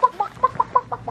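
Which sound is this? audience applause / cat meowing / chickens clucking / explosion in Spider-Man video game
chickens clucking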